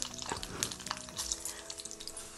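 Urad dal and chana dal fry in hot oil with fenugreek seeds for a Telugu-style tempering, a light crackling sizzle broken by faint clinks and stirring scrapes, close and fairly quiet.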